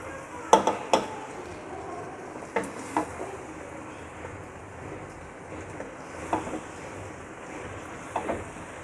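Garlic ginger paste and green chilies fry in a pan with a steady low sizzle, broken by a few sharp clinks of a spoon scraping the pan.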